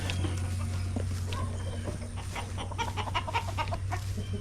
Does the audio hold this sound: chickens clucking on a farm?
yes